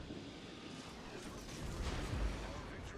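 Warship main-battery shells firing in the naval combat game World of Warships, heard as a dense, rumbling barrage of low booms that swells toward the end, with faint voice underneath.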